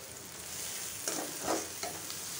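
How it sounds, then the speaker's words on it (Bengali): Onions frying in oil make a soft, fairly faint sizzle with a couple of brief stirring scrapes midway, and nobody speaks. "পেঁয়াজটা ভাজতেছি তেলে"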